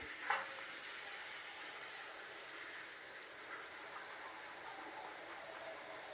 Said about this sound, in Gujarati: આ રીતે ધીમા ગેસે બધી તળી લેવાની.